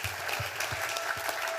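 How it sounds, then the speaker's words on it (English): Audience applause at a startup pitch competition final, a steady wash of many hands clapping at moderate distance, continuous through the whole stretch. "Just powering through the clapping."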